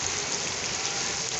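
Sudden heavy rain in Faisalabad pours steadily as a dense, constant hiss close by, spattering on surfaces and a shutter with no pauses.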